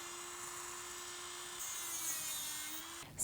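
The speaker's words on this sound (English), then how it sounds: "very slightly angle your drill bit and bevel out the underside" Electric nail drill with its bit angled to bevel the underside of an acrylic nail tip during a pink and white backfill, a steady high whine running close and continuous before a brief louder scrape at the end.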